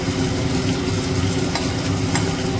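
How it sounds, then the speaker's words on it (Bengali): Whole spices fry and sizzle in hot oil as a tempering for mung dal, with a steady, close, continuous crackle and no talking. "চলো মশলাটা একটু ভাজা ভাজা হয়ে গেল তেলের সাথে।"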